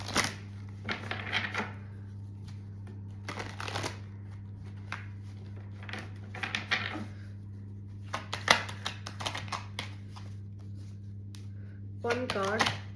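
Tarot cards riffled and shuffled in repeated bursts of crisp flapping with brief pauses between, close and fairly quiet over a steady low hum.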